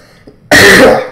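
A sudden loud, raspy cough from a character in the video game Don't Starve bursts in after a brief quiet stretch, harsh and close, lingering for a moment before fading.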